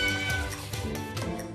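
Several cats meow loudly and insistently from inside a closed room, overlapping cries in quick succession, close and plaintive.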